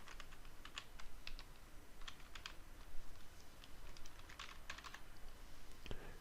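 Fingers typing on a computer keyboard, a steady run of quiet clicky keystrokes in short irregular bursts over a low background hiss, with no voice.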